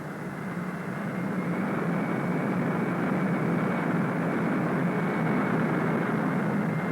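Jet engines of a Convair B-58 bomber roar steadily on the runway, a loud, continuous broadband rumble that holds at a constant level, with no voices over it.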